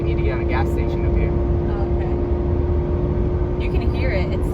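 Heavily loaded car engine droning and straining in too low a gear on the road, a steady loud hum with a constant tone throughout, while people talk over it.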